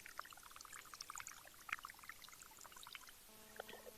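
Water pours steadily into an aquarium during tank cleaning at an ornamental fish shop, a faint, even trickling splash with small bubbly spatters throughout and no talking.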